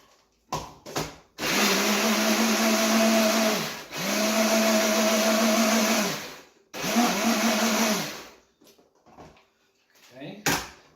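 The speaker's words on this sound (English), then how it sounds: "You just have to cut it into quarters because the food processor does the rest." A food processor pulses quartered onion with water in three long bursts of steady whirring, each a couple of seconds, separated by brief pauses, with light clatter and a short voice fragment near the end.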